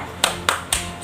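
Three sharp, evenly spaced hand claps in a quick rhythm for a children's 'tepuk semangat' clap routine, fairly quiet against a faint background hum.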